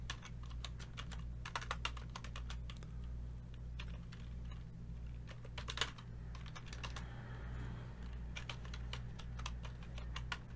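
Steady typing of code on a computer keyboard, with bursts of close clicking keystrokes broken by short pauses, all over a constant low electrical hum.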